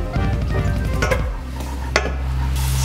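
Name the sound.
garlic (bawang) sizzling in cooking oil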